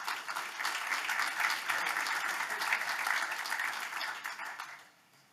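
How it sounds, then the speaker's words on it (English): An audience at a South Australian housing event applauds a welcome to country, dense clapping that holds steady and then fades out near the end. "Can we give him a round of applause?"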